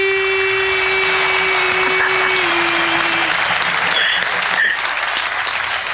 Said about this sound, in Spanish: Y entonces la vamos a bienvenir con un fuerte aplauso